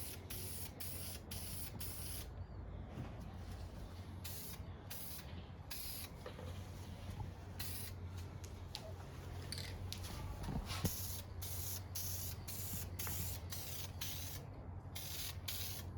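Aerosol can spraying matte clear coat onto a weathered RC car body, heard as a long run of steady hissing bursts with short pauses between passes over a constant low hum, with no talking.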